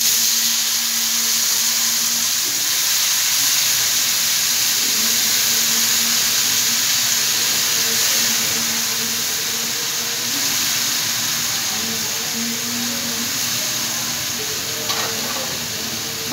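Potatoes hiss and sizzle steadily in hot oil as they join fried onions in a pan, a continuous close frying crackle with faint stirring, no voices.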